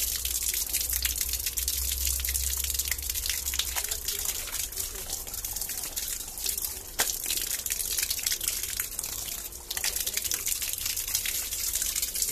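Water runs steadily from a faucet while rinsing laundry, a constant close gushing stream with brief splashes, continuing throughout.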